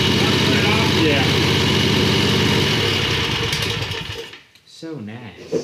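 A 22 HP V-twin go-kart engine idles loudly indoors with a rough, throbbing putter, then cuts off and falls quiet, followed by a brief voice.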